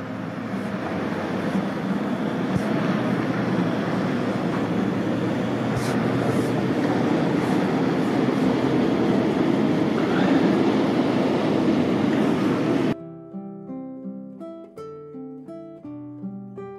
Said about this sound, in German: da haben wir das erste Schiff des Tages, von hinten angeschlichen